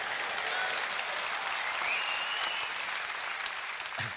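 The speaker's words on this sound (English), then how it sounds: "Yeah, you can clap for that as well." Steady, even applause fills a political party conference hall in the UK, a continuous wash of clapping from a large crowd with a faint whistle partway through and a brief voice near the end.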